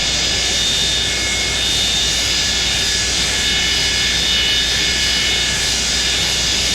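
Engine 2 of a Boeing 727 jet starting up, heard as a steady, loud, continuous roar with a high whine running through it, from inside the aircraft.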